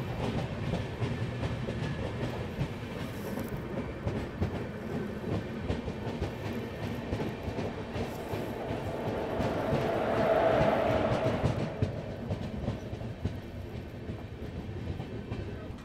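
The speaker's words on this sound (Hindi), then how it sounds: "यहाँ पे भोपाल के आउटर पे निशातपुर केबिन पे हम लोग ओवरटेक कर रहे हैं जम्मू तवी पुणे झेलम एक्सप्रेस को।" Rajdhani Express passenger train overtaking the Jhelum Express near Bhopal, heard from inside as a steady rumble and clatter of wheels on rails, growing somewhat louder midway before settling.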